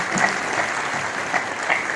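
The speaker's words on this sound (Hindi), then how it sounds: "जरा करतल ध्वनि जोर से करिए एक बार" An audience claps loudly and steadily in a dense, continuous wash of applause for a couple of seconds.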